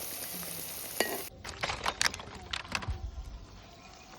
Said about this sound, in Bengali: আজকে অনেকবারে মাছ ভাজতে হবে